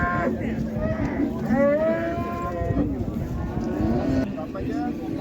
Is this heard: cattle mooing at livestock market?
yes